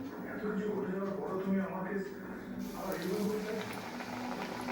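Small flour puris stuffed with potato filling are dropped into hot oil to fry, giving a steady bubbling sizzle throughout, with someone talking over it.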